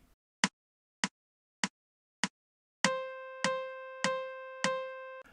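Four metronome clicks count in, then a saxophone plays four crotchets (quarter notes), one separate tone on each beat in time with the ticking.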